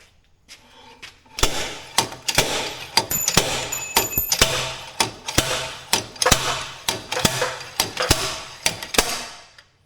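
Sharp metallic hammer blows strike a wrench to loosen a wheel bearing on a 1999 Jeep Cherokee in a garage, about a dozen loud, close whacks in an irregular, fairly steady rhythm with ringing overtones and no talk.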